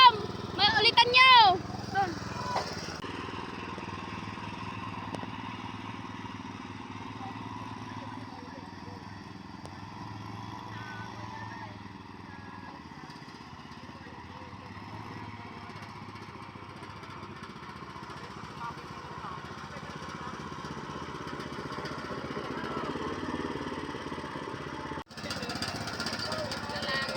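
A grass cutter engine runs at a rice research farm, a small motor buzzing and rattling steadily at moderate distance after a brief louder burst at the start, with voices speaking now and then.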